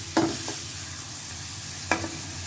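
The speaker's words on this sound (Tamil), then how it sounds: "இந்த வெங்காயம் இந்த சால்ட்டு போட்டோடனே அது பொரிஞ்சிச்சிங்க" Onions frying with salt in a pan for goat spleen fry, a steady background sizzle broken by two sharp stirring scrapes of a utensil.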